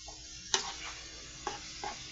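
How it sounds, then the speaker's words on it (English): Ground meat sizzles faintly in a covered pan. A soft frying hiss is broken by a few sharp ticks and pops, and the whole thing is quiet and brief. "Ooh, there go the sizzle."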